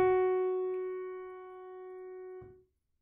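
A single long piano note rings out clearly, struck once and sustained with rich overtones as it slowly decays over about two and a half seconds before being damped to silence.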